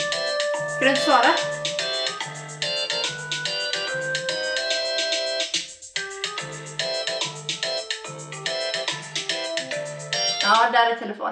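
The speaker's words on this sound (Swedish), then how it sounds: "Det ringer." Telephone ringtone playing a repeated electronic melody of bright, tinkly notes in bursts, loud and close, with a brief gap midway and voices audible at moments.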